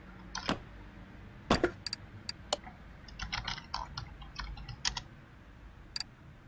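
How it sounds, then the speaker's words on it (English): Quiet, irregular computer keyboard typing with scattered sharp key clicks, some louder taps and short bursts of quicker keystrokes, no voices, while playing Car Mechanic Simulator 2018. "the sound of my keyboard gets into the audio for this"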